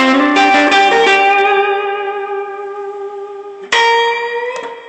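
An electric guitar with a distorted, effected tone plays a blues riff: a quick run of notes, a sustained bend, then a fresh struck phrase ringing out.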